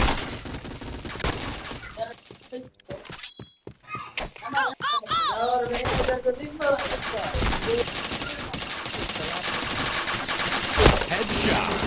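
Rapid bursts of gunfire in a shooter video game during a headshot-filled match, with dense crackling volleys and sharp impacts running throughout, broken by a brief near-silent gap, while someone talks over the action.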